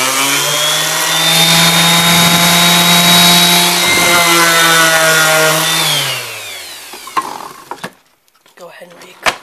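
A power sander with a dust collector attached works over a wood inlay filled with fine filler, a loud steady whine that runs for about six seconds, then winds down and stops, followed by a few knocks and clatters.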